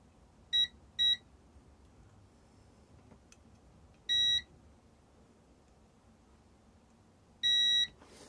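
A multimeter in continuity mode beeps four times while probing a faulty STC1000 temperature controller under repair: two quick beeps close together, then two longer tones spaced apart, clear over a quiet hum.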